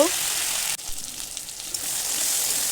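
Goose meat fries in a pan with bay leaf and chui jhal, a continuous moderate sizzle that briefly dips after a stir before the hiss builds again.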